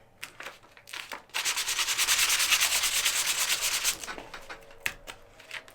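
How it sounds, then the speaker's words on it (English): Sandpaper rubbed by hand around the edges of a wooden front door decoration, a steady close scratchy rasp with quick back-and-forth strokes, starting with short light passes and ending with a few scattered scrapes. "I'm gonna take the sandpaper and just gently go around the edges here"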